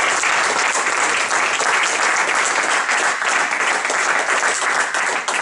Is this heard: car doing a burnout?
no